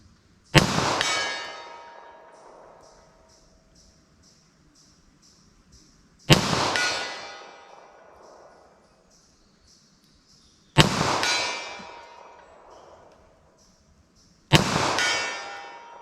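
Four loud gunshots from a .327 Federal revolver firing hard cast loads at a target, several seconds apart, each a sharp crack followed by a ringing decay and faint echoing metallic pings.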